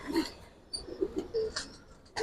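Old-breed Giribaz Bagha and Jabra pigeons at a bird fair give a few short, soft coos and murmurs close by, in brief bursts with light background noise.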